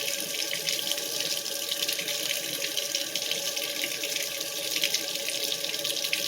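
Hot water runs steadily from a tap fed by a 2.5 gallon water heater unit, a constant close hiss and splash with no break and no voices.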